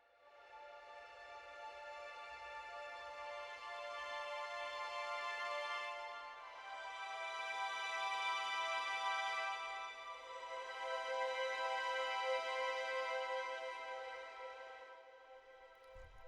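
Spitfire Audio Albion V strings play the Super Saltasto articulation, a light, airy flautando-like sustained chord that swells and fades in three soft, breathy waves at a quiet dynamic.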